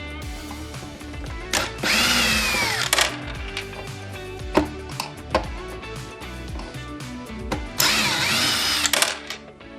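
A power drill backs screws out of a Robo-Pro motorbox in short bursts, the motor whining up and down between pauses, with small clicks and handling knocks in the gaps.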